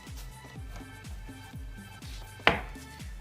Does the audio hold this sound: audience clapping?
no